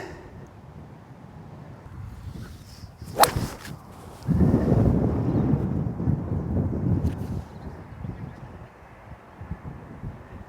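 A golf shot with a 4 hybrid on a windy course: one sharp, close swish-and-strike near the start, then heavy wind buffeting the microphone for several seconds.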